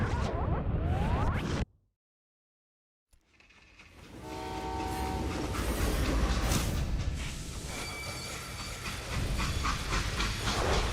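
A freight train in the Western video game Call of Juarez rumbles and hisses steam, dropping out into brief silence before rolling clatter and a horn-like tone return, loud and close with continuous mechanical noise.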